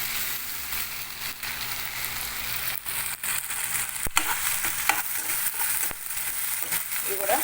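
Tomato pieces and ginger paste sizzle in a pan for chicken heart fry, a steady broadband frying hiss with a few sharp stirring clicks and scrapes throughout.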